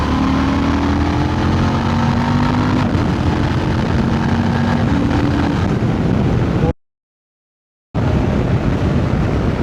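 A Honda Transalp motorcycle with a quickshifter accelerates hard. The loud engine note climbs, then drops sharply at each clutchless gear change before pulling up again, and it breaks off into a brief silence near the end.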